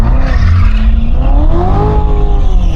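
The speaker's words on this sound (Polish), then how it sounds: "pierwszy półbączek przed nami" A car spins a half donut on a paved surface, its tires squealing in a loud, sustained screech that rises in pitch over the steady roar of the engine, with no talking.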